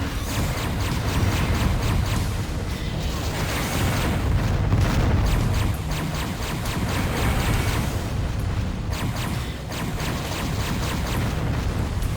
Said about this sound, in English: sound from the Mercury missiles we get to use